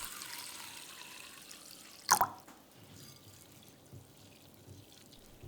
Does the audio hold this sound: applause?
no